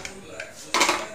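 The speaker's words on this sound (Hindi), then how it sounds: "अब हम दाल का प्रेशर कुकर खोल" A pressure cooker of lentil dal is opened in a home kitchen after three whistles, with metal pots clanking: a few light knocks followed by a louder burst of metallic clatter, with a voice faintly present.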